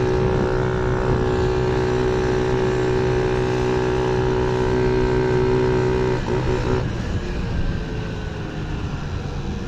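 Motorcycle engine drones steadily and loud throughout while riding in a group of about thirty bikes through Antalya traffic, with a continuous harmonic hum that eases slightly near the end; no talk.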